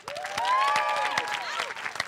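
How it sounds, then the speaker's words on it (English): An audience claps through a film-cast panel appearance: dense, steady applause with a tonal whistle or cheer rising over it, fairly loud and sustained, then thinning toward the end. "You clap."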